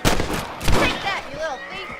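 Rifle shots from a gunfight in the western game Red Dead, played on PC: two sharp, loud reports with ringing tails, set against an outdoor game ambience.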